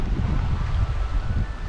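Steady wind buffeting a sailboat in 12–13 knots of breeze over a one-metre-plus swell, a continuous broadband rush with low rumbling gusts, close to the microphone and without voices.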